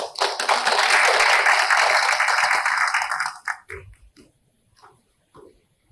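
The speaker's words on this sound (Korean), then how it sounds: "큰 박수로 환영해 주십시오." Audience applause at a regional research forum in Chungbuk welcoming a speaker to the stage: dense, loud clapping for about three seconds that then thins out into a few scattered claps.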